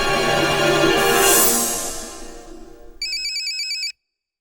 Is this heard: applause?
no